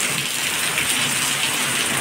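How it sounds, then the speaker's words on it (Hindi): Heavy rain pours down in a dense, steady hiss with water splashing onto surfaces, loud and continuous with no voices. "इतनी तेज़ बारिश हो रही।"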